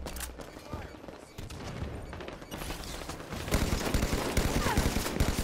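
Rapid, sustained turret gunfire fills a Halo 5 Warzone match, with dense bursts that grow louder and heavier toward the end while a player talks over the action.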